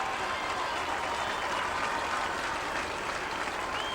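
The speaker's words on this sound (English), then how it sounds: "Listen to the Kaneland players and listen to the crowd cheer these guys" A crowd at the 1998 IHSA Class 3A high school football championship cheers and applauds the Kaneland players, a steady distant wash of clapping and cheering without a break.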